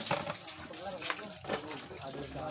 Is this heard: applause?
no